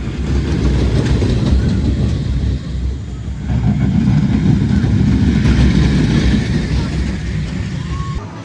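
Dragon's Apprentice, a family roller coaster at LEGOLAND Windsor, rumbles loudly along its track with a continuous rolling roar and clatter that swells midway through the ride.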